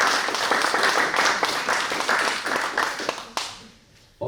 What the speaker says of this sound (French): nous allons faire un tonnerre d'applaudissements à Serge Pitois